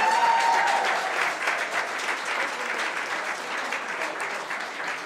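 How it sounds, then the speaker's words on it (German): An audience at an awards ceremony claps steadily, a dense sustained round of applause filling the room without any voices on top. "Ja, Sie dürfen schon mal klatschen."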